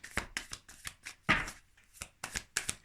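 Tarot cards are shuffled for a reading, giving a rapid run of crisp riffling bursts and slaps in an irregular rhythm, close and fairly loud with no talk.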